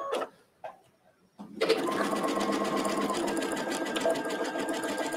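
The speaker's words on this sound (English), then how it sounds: "Just take this to the sewing machine." After a couple of short bursts, a sewing machine runs steadily, stitching soft sports elastic, its rapid rhythmic chatter continuing close and loud to the end.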